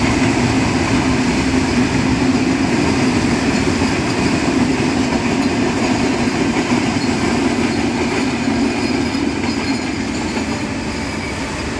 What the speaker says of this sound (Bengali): দূর থেকে একটি ট্রেন যাচ্ছে।